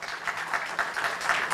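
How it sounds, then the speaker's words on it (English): Applause breaks out for first-prize winners at a medical conference award session, a steady wash of many hands clapping at moderate distance, fairly even throughout with no voices on top. "Please give a big round of applause"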